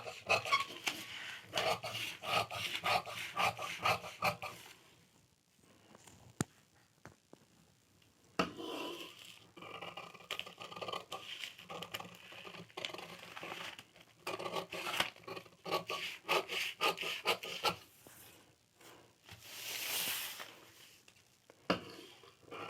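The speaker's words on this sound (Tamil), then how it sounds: "இப்போ கட் பண்ணி எடுத்துடலாம்." Scissors cut through a blouse paper pattern in bursts of crisp snipping and rustling paper, close and fairly quiet, with short pauses between runs of cuts.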